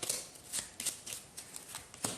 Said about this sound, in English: I shuffle my discard pile